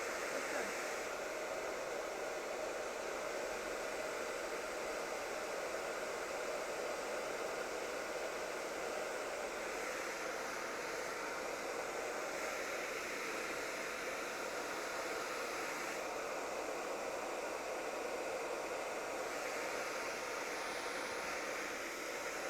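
Hair dryer fitted with a diffuser blows steadily while drying a soft mullet haircut, a continuous broadband whoosh with slight shifts in airflow and no talking.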